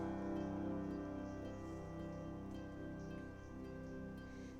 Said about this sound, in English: Leaky roof as well, given the fact it's raining indoors.